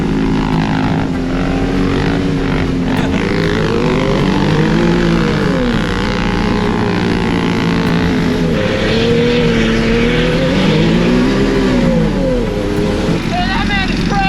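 A drift trike spins on sand dunes, its small engine revving loud and steady with wavering pitch throughout, while people talk and shout over it close by.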